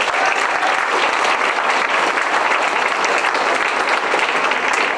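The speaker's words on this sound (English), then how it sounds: "Let's give them a round of applause." Audience at a middle school sixth grade spring band concert applauds, a dense, loud, continuous wash of clapping from many hands that holds evenly throughout with no voices.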